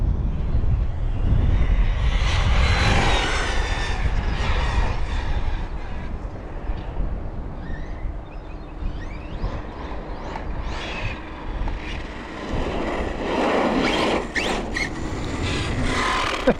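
An Arrma Fireteam RC car with a Spektrum 4685 1250kv motor tears past at high speed on a dirt-dusted street, a loud whining roar that builds, eases, then surges again with high squeals and rushing wind.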